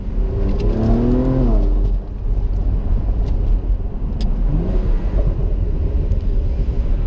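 A wrapped BMW Z4 engine revs hard, climbing in pitch, dropping off, then revving again over a steady close engine rumble.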